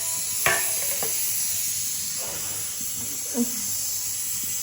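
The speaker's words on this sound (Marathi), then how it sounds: "तेल टाकले आता कढईमध्ये." Steady hiss of oil heating in a wok, with a couple of faint clicks and light knocks over the constant sizzle.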